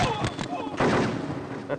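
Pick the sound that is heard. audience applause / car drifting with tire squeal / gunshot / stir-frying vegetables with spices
gunshot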